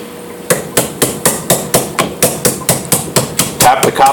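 A hammer taps the copper winding out of a small transformer held in a vise, with about a dozen sharp metallic strikes in an even, steady rhythm, close and loud.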